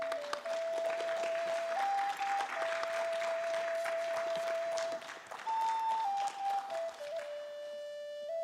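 Pageant audience applauds an attendant to Miss Indian Arizona, sustained clapping throughout with a sustained musical tone running beneath, fairly faint and distant.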